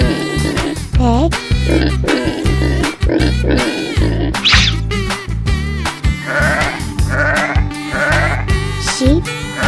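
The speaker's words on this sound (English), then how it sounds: "sheep," Sheep bleat in several wavering calls over a loud, rhythmic cartoon-style music track, with pig-like grunts mixed in and a steady pulsing low beat running throughout.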